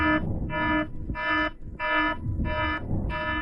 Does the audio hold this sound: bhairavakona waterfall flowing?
no